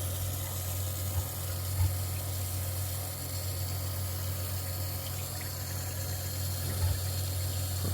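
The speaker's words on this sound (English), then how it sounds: "I'll just run this through. Run the hose quite a bit." Water running from a hose into a homemade pond filter box, a steady close churning flow with a low pump-like hum underneath, continuous and even without talk.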